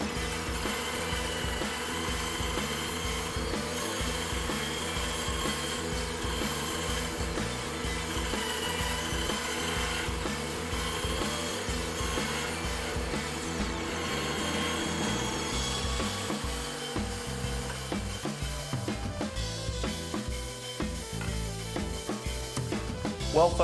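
A bandsaw fitted with a simple shop-made circle-cutting jig saws through a wooden piece to cut a circle, giving a steady, loud, continuous mechanical drone with a rubbing undertone for over twenty seconds, with no voices.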